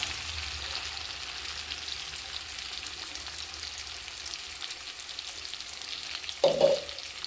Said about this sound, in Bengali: সর্ষে পোস্তটা ভাজার সময় গ্যাসের আঁচটা আমাকে একদম কম রাখতে হবে।